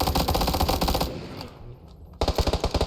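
Rapid automatic gunfire from the PUBG battle royale game rattles in a loud, fast burst, stops briefly, then resumes with another burst of quick shots.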